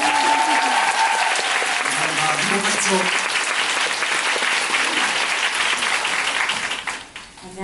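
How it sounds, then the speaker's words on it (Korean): Loud, continuous applause from a theatre audience fills a musical's closing curtain call, with a voice speaking briefly over the clapping before it thins out near the end. "큰 박수 한번 부탁드립니다"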